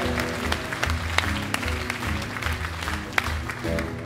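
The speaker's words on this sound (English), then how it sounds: "give them all a big round of applause" A theatre audience at the Hunstanton Princess Theatre claps in sustained, even applause, dense and moderately loud, with a few sharper claps standing out near the front.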